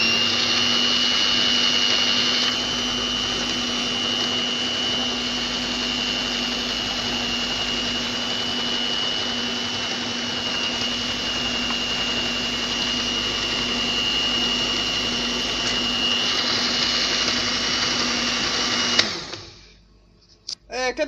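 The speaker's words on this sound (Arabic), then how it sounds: "كده هبدأ بقى اللي انا اضربها" An electric mixer whipping cream for chantilly whirs steadily and loudly with a high whine for about nineteen seconds, then cuts off abruptly near the end.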